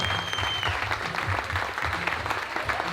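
Audience applause at a live comedy show in Argentina, steady and dense crowd clapping throughout with low rumbling noise beneath, no clear talk.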